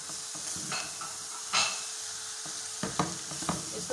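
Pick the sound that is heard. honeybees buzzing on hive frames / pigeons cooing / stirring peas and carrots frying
stirring peas and carrots frying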